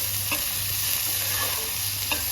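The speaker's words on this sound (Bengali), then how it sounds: "এবার আমি এতে দিয়ে দেবো মটরশুঁটিটা" Carrots, beans, onion and peas fry in a pan while being stirred, giving a steady close sizzle with a few faint scraping strokes of the spoon, no voices.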